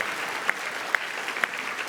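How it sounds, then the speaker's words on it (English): A big Brownlow Medal crowd keeps up steady applause, a continuous texture of many hands clapping, with a few sharper individual claps standing out at regular intervals. "Round of applause if..."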